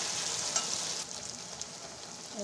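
Boiled mutton pieces sizzle and fry with spices and browned onion in a wok, a steady close crackling hiss with a faint stir partway through, no voices.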